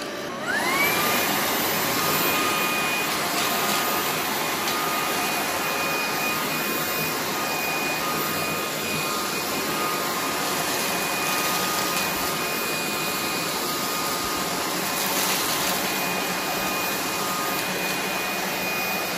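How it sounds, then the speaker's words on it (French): A cordless stick vacuum cleaner with automatic emptying runs on high mode picking up cereal, a loud steady whine and rush of air from a quick spin-up, with faint rattles of debris being sucked in. "Le mode élevé a été capable d'aspirer tous les gros morceaux qui ont atterri directement dans le réservoir."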